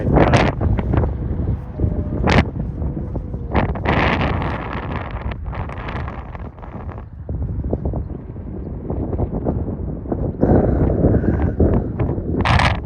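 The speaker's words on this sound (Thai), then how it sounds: "ลองดูครับว่าลมมันแรงมากครับ" Strong wind gusts batter the microphone while a 95 cm Thai Chula kite is flown, giving a loud, continuous rumbling buffet with sharp gust peaks and faint rustling throughout.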